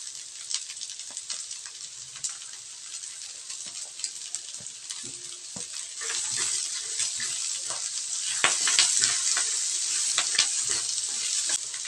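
Onion fries in a pan with browned garlic, a loud, close, continuous sizzle with crackling pops that grows fuller and louder partway through as the onion goes in.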